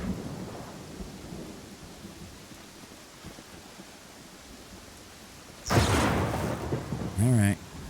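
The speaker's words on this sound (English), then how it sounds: "we are being literally poured down on in rain" Heavy rain and rolling thunder in the Pathfinder: Kingmaker video game, a steady wash of rain with a loud thunder burst near the end and a brief bright sound after it.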